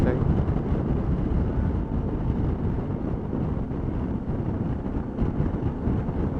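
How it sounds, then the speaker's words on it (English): Loud, constant wind roar buffets the microphone as a motorcycle crosses a bridge near Dauphin Island, blending with engine and road noise, with a voice heard faintly underneath. "It's too windy."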